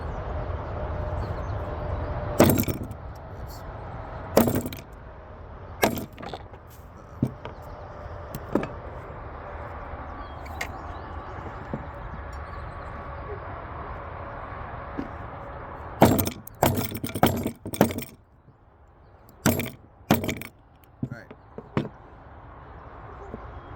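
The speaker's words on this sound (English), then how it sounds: "now basically all I do is I'm gonna cut these ends off" Sheep bones having their ends cut off for marrow: a steady background hum broken by sharp, irregular cracking and chopping impacts, a few scattered early and a dense cluster of hard hits near the end.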